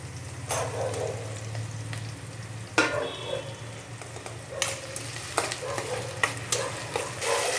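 Onion and tomato frying in a pan for mung bean usal, a steady sizzle with a low hum beneath and repeated spatula scrapes and taps, no voices.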